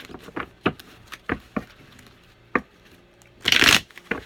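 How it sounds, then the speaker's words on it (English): Tarot reading cards being shuffled by hand: a series of short, separate riffles and taps, then a longer, louder burst of shuffling near the end, no talk. "just a couple more shuffles and we will hop right into this reading"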